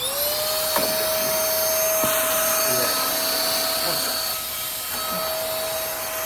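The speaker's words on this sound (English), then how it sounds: "So I can vacuum stuff up off the floor or wherever." A DeWalt battery-powered cleanup vacuum runs steadily with a high motor whine, a broad hiss of suction and a few faint bumps and scrapes as it moves across a floor.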